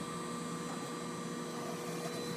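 A pet hair dryer blowing on a Persian cat, a steady, droning blower hum with a hissing airflow, continuous and fairly faint throughout.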